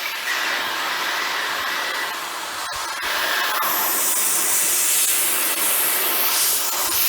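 Oxy-fuel torch hissing steadily while preheating a steel fork for an Allis Chalmers machine, a continuous loud broadband rush with a brief dip near the middle.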